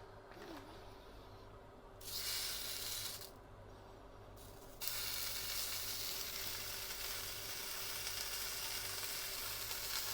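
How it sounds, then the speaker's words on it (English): Streaky bacon laid into a smoking-hot pan, a loud, dense crackling sizzle that surges in stages as more strips go in and then holds steady, close and continuous with no talking. "Our pan's actually smoking hot here, so we'll just turn down the temperature slightly, start putting the bacon in."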